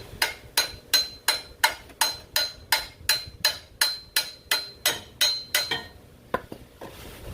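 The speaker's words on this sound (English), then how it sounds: "Probably going to get a hammer so I can move it up" A hammer strikes a Continental trailer's center support about fourteen times in a steady, even rhythm, each blow a sharp metallic ring close by; the series stops near the end, followed by two isolated taps.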